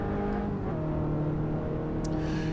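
In Assetto Corsa, a race car's engine drones and shifts pitch as it brakes and drops through the gears, then climbs again under acceleration, loud and continuous, with a brief sharp click near the end.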